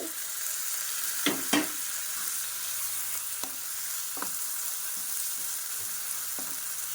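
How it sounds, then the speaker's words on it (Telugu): Tomatoes go into well-fried, sizzling masala for a colocasia kurma. A constant hissing fry runs throughout, broken by a few sharp spoon scrapes and clacks against the pan. "ఇప్పుడైతే మసాలా బాగా వేగింది కదండి. ఈ టైంలోనే టొమాటోస్ అయితే వేసేసుకుంటున్నాము."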